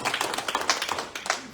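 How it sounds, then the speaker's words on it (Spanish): A church congregation claps together at a Sunday morning service: dense, steady crowd applause with many hands overlapping, loud and close throughout. "Denle un aplauso al Señor en esta mañana"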